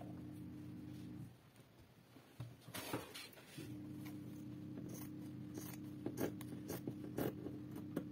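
Scissors snip through dress fabric while a garment is cut out, with a steady low hum under the close cutting and a few sharp crisp snips near the end.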